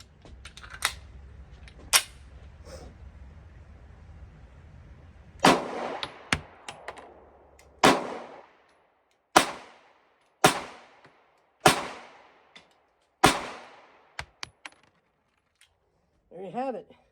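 A Kimber Micro 9 pistol fires 124 grain 9mm rounds, about ten sharp, loud shots in a quick irregular string with short ringing tails, followed by a brief voice at the end.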